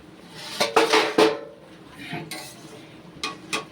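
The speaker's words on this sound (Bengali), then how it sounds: "কিছুক্ষণ পর আমি ঢাকাটা খুলছি" Metal lid lifted off a pot of tomato and fish-roe curry, a cluster of clanks and scrapes followed by softer clinks, close and fairly quiet against a faint background.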